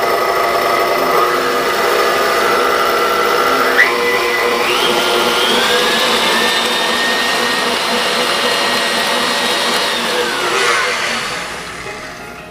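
Stand mixer motor whirs steadily at low speed while mixing banana bread batter with half and half, a close continuous hum with a slight pitch shift partway through that tapers off at the end.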